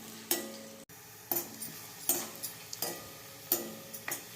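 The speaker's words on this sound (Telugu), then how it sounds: "ఆనియన్ వేపుకుందాం." Onions fry in a pan after mustard seeds, with a soft sizzle under repeated spatula strokes that scrape and tap against the pan at an uneven rhythm, near and fairly quiet.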